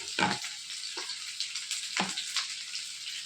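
Chicken marinated in masala with garlic, tossed and fried in a hot pan for dragon chicken: steady close sizzling with a few louder stirring bursts and spatters, no voices.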